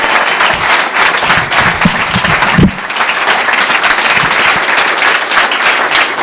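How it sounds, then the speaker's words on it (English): A comedy club audience gives a comedian a dense, steady round of applause, with a few whoops in the crowd, sustained loudly for the whole stretch. "Please, a nice round of applause for Miss Julie Barr."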